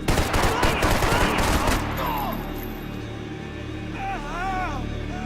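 Gunfire in the video game Max Payne 3: a loud dense burst of rapid shots for about two seconds, then a lull with game ambience and shouted voices.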